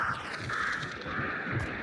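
Crows caw in a video game, steady harsh bird calls repeating over a dense ambient wash at moderate distance, with no talk.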